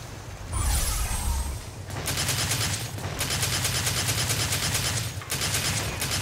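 Rapid bursts of gunfire from Devil May Cry 4 gameplay on PC, loud and sustained in repeated volleys with brief gaps, close and dense over a game soundtrack.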